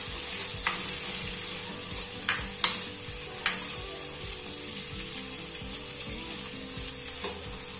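Two large tomatoes fry in a pan as the base for bottle gourd kofta curry, giving a continuous hiss of sizzling oil with occasional clicks and scrapes of a spoon stirring, and no talk.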